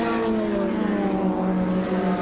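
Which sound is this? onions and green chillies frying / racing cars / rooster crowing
racing cars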